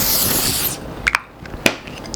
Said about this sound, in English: It's a very lightweight spray and it just goes on your skin seamlessly and effortlessly.